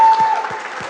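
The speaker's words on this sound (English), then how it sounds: "So I think that's worth a round of applause" A conference audience applauds in a steady burst of clapping, fairly loud and continuous through the moment, with no talk over it.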